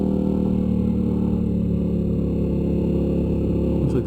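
Steady engine drone and road rumble from a motorcycle on Heidenau K60 tyres riding through slippery ground near Elan Valley, loud and continuous throughout with no talking.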